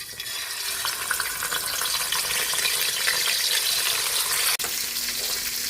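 Fish frying in hot oil gives a loud, continuous crackling sizzle, with a brief cut just before the end.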